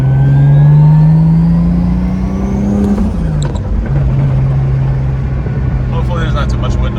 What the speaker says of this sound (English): a taste of what the turbo kind of sounds like spooling up here.